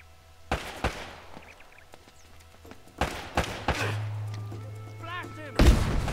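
Scattered gunshots in the action video game Uncharted: Drake's Fortune, a few sharp loud bangs separated by pauses, over low game background noise and a short electronic tone.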